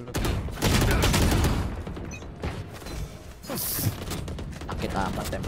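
Bursts of rapid gunfire crackle through a busy video game soundtrack, with a voice talking over parts of it and a sharp burst near the end.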